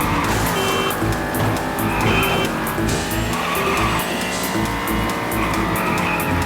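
A race car in an Xbox Live indie racing game drifts through turns, tires squealing in long screeches over a loud, continuous engine roar with busy game sounds.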